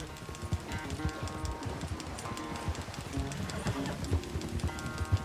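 Horse hooves gallop in a steady, rhythmic race on a dirt track in Red Dead Redemption 2, close and clear, with a few faint bird calls in the background.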